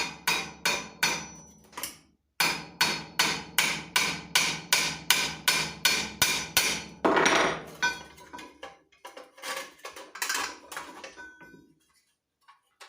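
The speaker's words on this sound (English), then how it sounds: "I'm just going to hit that one with the hammer." Sharp metallic hammer strikes on a rivet of a Tonka toy pickup ring out in a fast, even rhythm, pausing once, then continuing in lighter, scattered taps before fading to silence.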